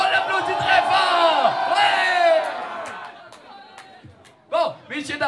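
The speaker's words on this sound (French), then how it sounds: "On l'applaudit très fort!" Audience at a live comedy-music show in a hall, cheering, whooping and calling out loudly for several seconds, then fading into a quieter stretch before brief renewed shouts near the end.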